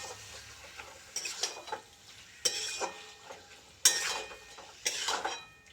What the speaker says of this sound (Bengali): চিকেনটা একটু ভাজা ভাজা হোক